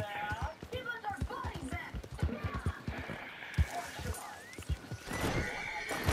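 A horse in a video game whinnies and snorts among clip-clopping hooves, close and fairly loud, with people talking over it.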